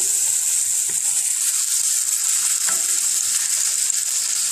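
A turkey burger patty fries in a hot pan with a steady, bright sizzle and crackle, loud and close and continuous for the whole stretch, with no voices.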